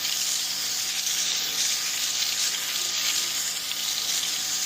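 Foam cleaner sprayed and fizzing on the tires of a Newell coach during a wash, a steady close hiss that holds evenly throughout with no talking.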